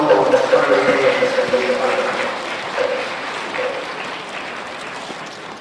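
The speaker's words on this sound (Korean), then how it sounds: "다시 한번 큰 박수 보내드리겠습니다" Applause at a world Buddhist leaders' conference after a bouquet presentation, a large hall audience clapping strongly at first and then gradually thinning, with voices underneath.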